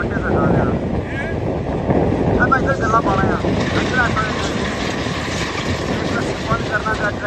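A tractor's engine runs at a steady, throbbing idle by a river dam with sand digging under way. The close, continuous mechanical rumble carries on beneath voices speaking.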